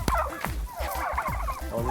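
Turkeys on a turkey farm gobble loudly and close by in a rapid, warbling chorus of overlapping rattling calls that continues throughout.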